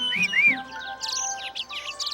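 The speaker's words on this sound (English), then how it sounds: "don't you just love the birds?" Birds in a Beginners Bible cartoon chirp and tweet in quick, bright bursts, close and clear, with no talking over them.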